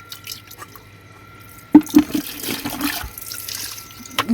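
Prawns and fish being washed by hand in water, with splashing and dripping bursts starting partway through and continuing in uneven handfuls, close by after a quieter start.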